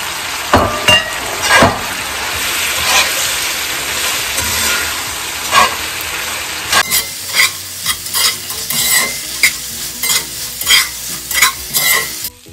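Fried beef stirred into a Chinese-style chili sauce in a pan, loud close scraping and sizzling with repeated rhythmic strokes, turning into sharper individual clanks of the spatula in the second half.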